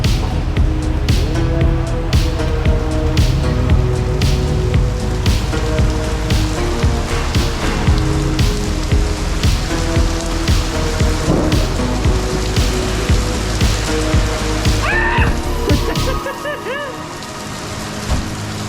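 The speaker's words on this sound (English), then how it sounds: "I'm like, Sarah, it looks like it's gonna rain." Heavy, steady rain falls close by, pattering densely on surfaces, then thins out near the end.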